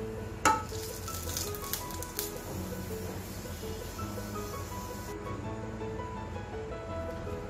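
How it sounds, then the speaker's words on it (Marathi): Chana dal roasting in a pan gives a soft, continuous sizzle with a couple of sharp clinks near the start, otherwise even and fairly quiet throughout. "त्यासाठी इथे फुटाण्याचं डाळ आहे, ते परतून घेणार आहे"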